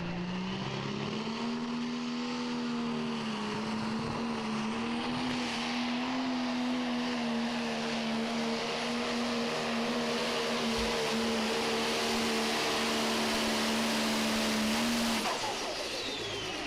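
A super modified pulling tractor roars at full power throughout a pull, its loud, steady engine drone holding close and constant for about fifteen seconds before cutting off near the end.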